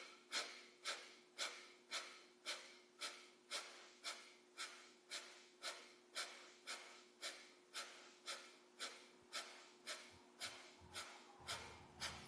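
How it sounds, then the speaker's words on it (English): Yoga breath of fire, rapid rhythmic breathing through the nose in about two dozen evenly spaced sharp puffs, close and soft. "and begin breath of fire"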